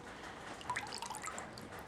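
A 12 volt camping shower pump set in a bucket runs water, giving a faint, steady trickle with small drips and splashes, heard alone and at close range.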